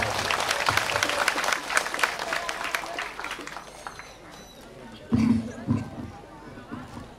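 Crowd applause for Prabowo at an Indonesian religious gathering and speech event, a busy sustained clapping heard loud at first and thinning out, with voices and cheering mixed in.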